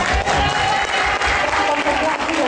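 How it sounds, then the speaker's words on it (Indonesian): An audience claps and cheers together in a dense, continuous burst of applause filling a hall, loud and sustained with no pause. "Kayaknya dari tepuk tangan, dari sorakannya nggak perlu dijawab lagi boleh atau enggaknya"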